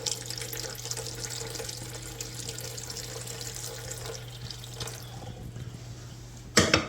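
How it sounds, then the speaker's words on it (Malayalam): Water pours steadily into a cooking pot of pork in a continuous splashing stream, then ends with a short clatter. "ആ വെള്ളം അങ്ങോട്ട് ചേർക്കാം"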